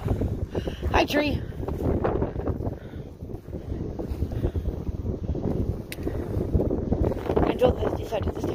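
Wind gusts buffet the microphone outdoors on a very windy day at a lakeshore, a loud rumbling roar that swells and fades throughout, with a voice speaking intermittently beneath it.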